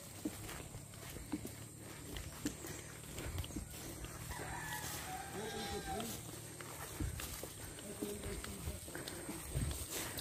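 Goats bleating on a farm, a few wavering cries rising over footsteps and rustling, with people talking nearby in the background.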